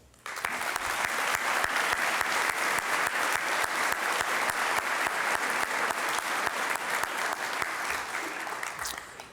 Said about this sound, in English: So one last collective applause for the award recipients this evening.